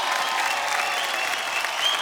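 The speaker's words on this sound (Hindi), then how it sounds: "जोरदार तालियों से हमारी गुरु स्नेहा के लिए भी जोरदार तालियां होनी चाहिए।" Audience applause on a folk singing reality show, a dense continuous wash of many hands clapping at once, loud and sustained with no pauses.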